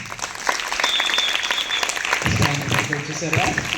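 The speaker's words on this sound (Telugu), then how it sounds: "Okay, give him big claps." Audience clapping for a student at a school International Yoga Day event, a crowd of hands applauding continuously with a voice speaking over the claps partway through.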